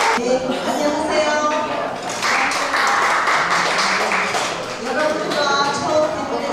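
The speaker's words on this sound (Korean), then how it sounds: "여러분 큰 박수 부탁드립니다." An audience at a graduation ceremony for a golf course in Sriracha, Thailand, breaks into applause, with bursts of clapping and a sustained loud stretch in the middle, and voices heard between the claps.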